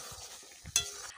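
Boiled whole jujubes being stirred through hot oil for a pickle, a soft scraping stir with faint sizzle and one brief sharper clink or scrape midway, close and quiet with no talking.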